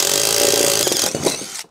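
A drill with a hole saw bores 2 1/4-inch holes for a diesel air heater install, giving a loud, continuous grinding whine with rough cutting texture that drops off abruptly at the end, with no talking.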